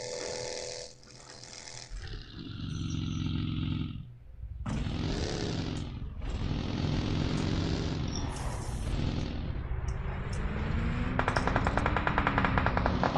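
Rapid automatic gunfire and explosions in a competitive video game match, loud, dense bursts of machine-gun fire with roaring blasts, continuous throughout and building to sustained rattling at the end.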